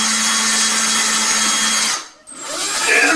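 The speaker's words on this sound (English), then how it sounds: "So we'll just kind of drill in." A power drill whines steadily as it bores into a wall stud, then stops abruptly and briefly restarts with a rising whir.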